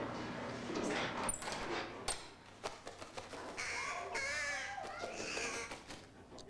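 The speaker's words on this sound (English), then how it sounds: "Crow." A crow caws several times in a film scene, the harsh calls repeating over a rustling outdoor background, moderately loud with no speech over them.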